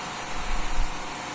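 Ammonia refrigeration machines run in a cold storage machine room, a steady loud mechanical hum and whir with a low throb that swells briefly in the middle.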